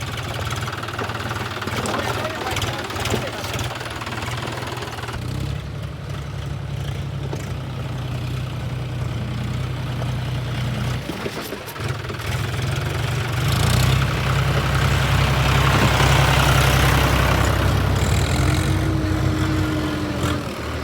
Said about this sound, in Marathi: इथे एक ट्रॅक्टर आहे जॉन डियर आणि स्वराज, हे दोन ट्रॅक्टर आहेत.